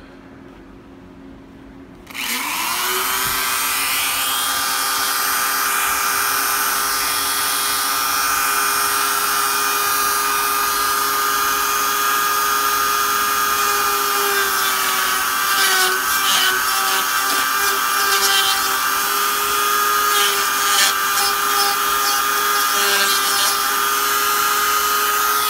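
An end mill bites into metal while a table is made for a 2x42 Jet belt grinder, starting abruptly after near-silence. It then holds a loud, sustained high-pitched whine with steady overtones and occasional chattering fluctuations.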